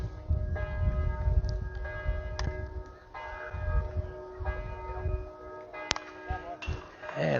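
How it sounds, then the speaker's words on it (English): Church bells ring at seven o'clock at a steady distance, over a youth baseball game, their tones hanging over a busy outdoor murmur of crowd noise and faint voices. "Church bells ringing."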